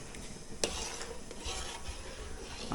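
Busy hotel kitchen in Darjeeling with cooking underway: steady stirring and sizzling from pots and pans, a sharp utensil clank near the start, soft clatter throughout, no voices.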